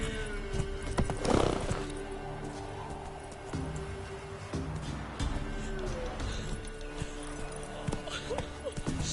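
A ridden horse gives a loud, close whinny early on, followed by steady clip-clop of hooves and occasional snorts.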